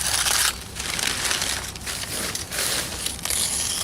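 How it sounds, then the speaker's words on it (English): Plastic sheeting is cut and pulled away from freshly poured concrete sidewalk, giving loud, continuous crinkling and rustling with short tearing bursts close to the microphone. "Cut the plastic away here."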